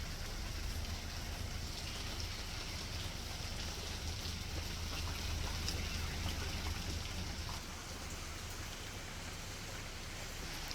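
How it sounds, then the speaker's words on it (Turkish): Heavy rain pours steadily onto a small greenhouse as a dense, even hiss that stays loud throughout, with no voices. "Bir bastırdı yağmur."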